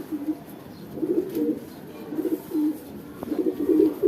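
A pigeon coos in several soft, repeated phrases close by, with brief pauses between them and no voices.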